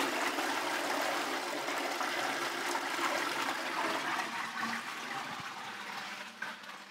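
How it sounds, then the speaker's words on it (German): Toilet flush, with water rushing loudly through the bowl, gradually thinning toward a trickle near the end. "Dann ziehen wir mal ab."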